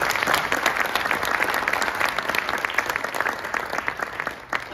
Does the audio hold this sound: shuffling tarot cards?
no